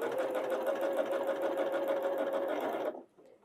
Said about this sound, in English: no matter what, running the machine or stopped, I push the bullseye button and then I keep sewing.